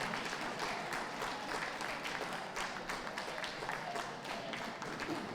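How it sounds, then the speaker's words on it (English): Spectators at an outdoor terrier dog show ring give a round of rhythmic clapping, dense and steady across several seconds, with faint background voices. "Come on, give them a round of applause."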